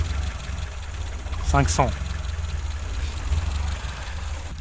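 An engine idles with a steady low chug while its Weber carburetor's mixture screw is being adjusted; someone speaks briefly over the even running, which swells slightly in places.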